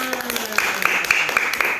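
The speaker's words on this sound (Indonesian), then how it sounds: "tepuk tangan buat semua" Schoolchildren in an Indonesian classroom clap their hands in a quick, regular rhythm of crisp claps, close and fairly loud, while an adult voice speaks over them.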